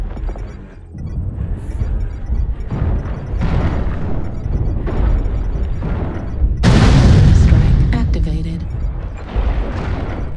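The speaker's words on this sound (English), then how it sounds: "Artillery strike online." Video game artillery strikes with repeated heavy booms and rumbling explosions across the clip, loud and dense, with one especially big blast midway.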